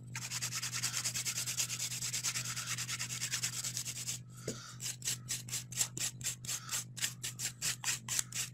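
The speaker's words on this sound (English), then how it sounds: "a little bit of quick finish filing with the 240 grit file" A 240 grit file works a fingernail in close, soft scratchy rubbing, first a continuous smooth stroke, then a run of quick evenly spaced back-and-forth rasps.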